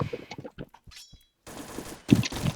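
Bursts of gunfire from the Point Blank online shooter game, rapid cracking shots clustered in short volleys with brief silent gaps, loud and close.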